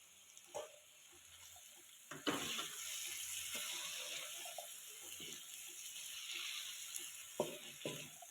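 Water poured from a tap or jug into a pan of roasted vermicelli cooked with onion, capsicum, carrot and green chillies, a steady close splashing rush running through most of the clip with a few brief clatters.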